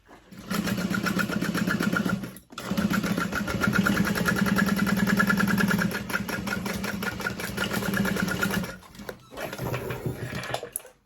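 A sewing machine stitches a seam on an Aster bag, its steady mechanical whir running in long continuous bursts with brief pauses between passes, close and loud.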